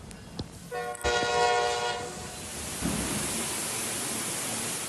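A New York City subway train in a flooded station sounds a sustained horn for about a second, then a steady rushing roar of moving train or water fills the rest.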